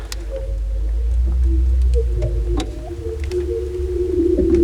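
Eerie whooping and pinging tones ripple across frozen lake ice in northern Sweden, with sharp zips and a low rumble beneath, sustained and resonant outdoors.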